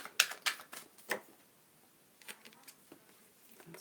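Tarot cards being shuffled by hand: a few quick, crisp riffling bursts near the start, then quieter, sparser card flicks, close and soft with no talking.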